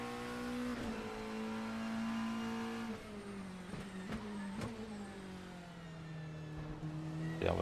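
A GT-MX Macca V8 race car in Assetto Corsa roars steadily at high revs, with sharp gear-change blips and dips in pitch as the engine note drops and climbs again, loud and alone.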